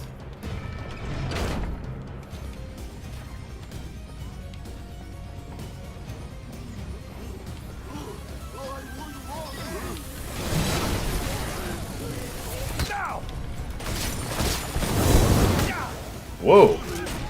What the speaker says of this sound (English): Those were some good explosions.